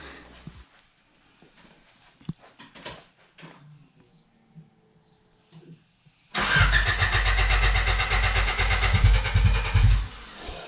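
A Honda Civic fitted with a new exhaust cranks and fires, then holds a loud, raspy, steady rumble close by after a few seconds of quiet shuffling.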